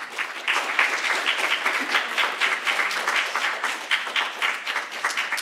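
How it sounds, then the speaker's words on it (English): Audience applause after poetry readings at a poem jam performance, a dense, sustained crowd of clapping hands, fairly close and steady throughout. "Please give another round of applause both for Lily and Carla."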